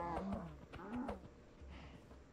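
A cow moos in the Minecraft video game, a few low bellowing calls over about two seconds, moderately loud and fairly close, with no talk over it.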